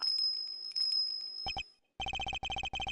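A green bell in the video game Ace Attorney Investigations 2 gives a bright, tinkling ring in quick repeated bursts, first two short chimes and then a rapid run of rings. It follows a stretch of soft game music.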